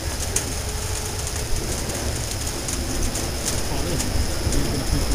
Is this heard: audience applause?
no